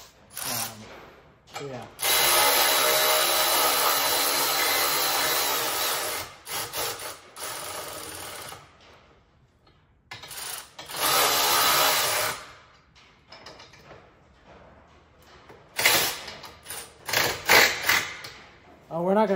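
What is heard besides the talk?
electric ratchet tightening gooseneck hitch bolts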